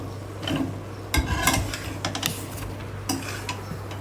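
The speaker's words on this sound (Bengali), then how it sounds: "এখন এর মধ্যে দিয়ে দিব আমার সেই কেটে রাখা লাউ এবং আলু" Chopped bottle gourd and potato pieces go into a pan of spices frying on a stove, with clattering drops and scrapes of a spoon over a steady low hum.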